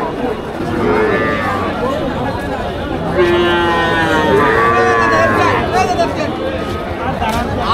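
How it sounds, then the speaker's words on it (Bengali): Several calves moo again and again at a crowded cattle market, long bellowing calls overlapping one another against steady crowd chatter and background voices. "এদিকে অনেক বাছুর।"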